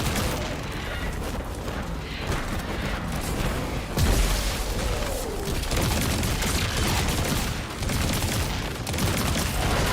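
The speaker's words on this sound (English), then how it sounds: "What's shooting at me?" Dense gunfire rattles continuously in a Bungie shooter game, with rapid bursts of shots over a loud, busy mix and one heavier boom about midway.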